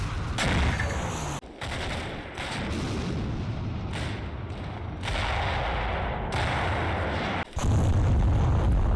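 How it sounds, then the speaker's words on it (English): Heavy artillery shells and airburst rounds pound troops on a flank in Combat Mission Fortress Italy, a dense, continuous rumble of blasts with a few sharper cracks, loud and sustained with no talk. "my right flank is plastered with heavy artillery and airburst rounds"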